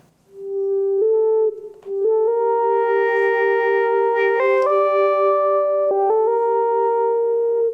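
An electronic wind instrument (EWI) plays one breath of legato sustain, a held pure-toned note that steps smoothly up through a few pitches without tonguing, loud and alone.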